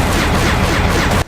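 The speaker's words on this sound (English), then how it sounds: "If you could hear it over the gunfire, that is" Rapid sustained gunfire blasts in the Bionicle Heroes video game, a loud dense burst of repeated shots that cuts off abruptly at the end.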